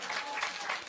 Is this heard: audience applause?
yes